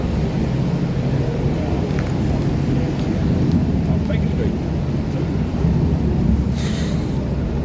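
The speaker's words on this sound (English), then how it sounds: "Ridiculous rain." Heavy rain falling in London, a steady dense wash of noise that runs unbroken through the whole stretch with a low rumble beneath it, loud and close.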